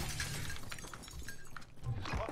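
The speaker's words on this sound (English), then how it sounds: "All the glass is broken over here." Glass shatters in the shooter game Call of Duty: Warzone, a bright crashing burst layered over dense, noisy in-game ambience at a moderate level, with no clear talking.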